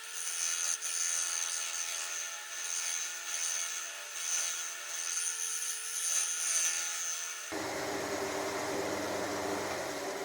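Wood lathe facing off the bottom of a turning: a steady motor whine with hissy cutting noise for several seconds, then the tone changes abruptly to a broader, rougher scraping, with no voices.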